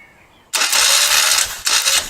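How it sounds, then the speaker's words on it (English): Moto Guzzi motorcycle engine cranking over during a rebuild after cylinder head work: a loud, steady whirring turnover that starts abruptly, stops briefly, then resumes, close and without talk. "Just going to get the engine to turn over again"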